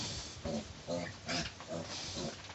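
Newborn piglets on a pig farm, just after having their teeth cut, give a series of close, loud grunting oinks in quick bursts, about five squealy calls over a couple of seconds.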